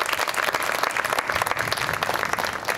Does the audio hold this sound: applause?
yes